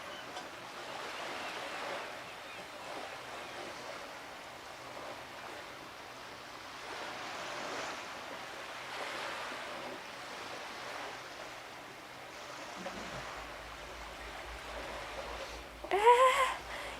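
Gentle water lapping in Disco Elysium, a soft, faint wash of waves that swells and recedes throughout, quiet and distant, ending with a brief louder sound near the end.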